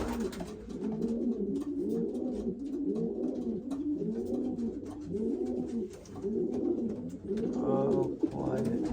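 Racing pigeons in a loft coo continuously in steady repeating rhythmic phrases, close and fairly loud, with a few brief extra calls near the end.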